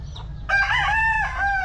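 A rooster crows once, loud and close, a bright drawn-out call over a low background hum.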